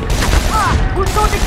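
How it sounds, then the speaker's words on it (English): Rapid gunfire from SOCOM 4 rattles loudly in a short burst, mixed with shouted voices and other game noise. "Taking fire!"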